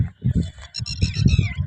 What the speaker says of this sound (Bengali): আপনারা হয়তো পাখির ডাক শুনতে পাচ্ছেন